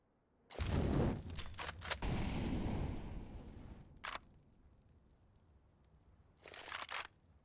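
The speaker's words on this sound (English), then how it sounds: "Here comes the smokes. We're gonna land in towards CT, one towards short" Smoke grenades landing on the Dust 2 map in a competitive Counter-Strike match: a loud crackling burst and rushing hiss, then fainter pops and a final crackly hiss, with no talk.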